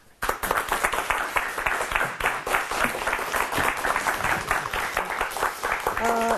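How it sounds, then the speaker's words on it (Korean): An audience at a leadership lecture claps to welcome a retired colonel, a brisk, close burst of many hands that starts abruptly and continues evenly for several seconds, with a brief tonal sound near the end. "박수로 맞아주시기 바랍니다"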